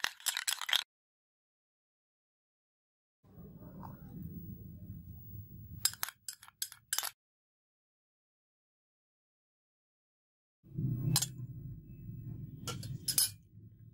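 A spoon stirs a rice-and-milk mixture with a teaspoon of aloe vera gel, making two spells of soft, close scraping and swishing broken by sharp clinks against the container, with silent gaps between them.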